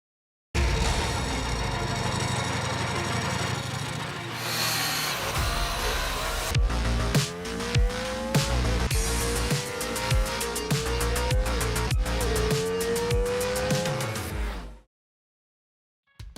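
A Ducati Diavel V4 RS motorcycle's V4 engine idles roughly, then revs hard several times with rising and falling pitch, loud and close, before cutting off.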